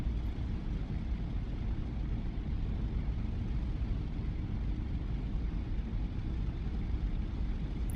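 A P-47 Thunderbolt taxiing in DCS, its radial piston engine rumbling steadily at low power, a continuous even drone with no talking over it.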